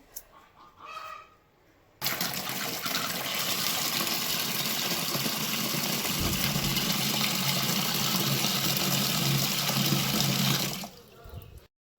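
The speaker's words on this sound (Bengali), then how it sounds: "এবার আলুটা ধুয়ে নেবো ভালো করে" Cut potatoes are washed in water in a home kitchen. After a quiet start, about nine seconds of continuous splashing and running water follow, close and fairly loud, then stop abruptly, with no talking.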